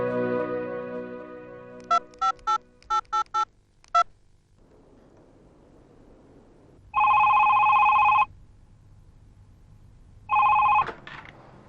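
A landline telephone in an Urdu TV drama scene: a rapid series of dialing beeps, then two loud, long electronic rings separated by silence, with no talking.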